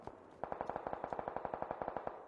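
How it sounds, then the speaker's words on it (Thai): Rapid automatic gunfire from a video game, about twenty evenly spaced shots in a fast steady burst with slight echo, fairly faint and close. "มีการยิงกันใกล้ๆครับ"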